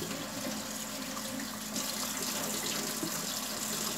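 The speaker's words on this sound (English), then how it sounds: "rinse these off with some warm water" Warm tap water runs steadily while chicken wings are rinsed under it in a kitchen sink, a continuous close splashing hiss with no talking.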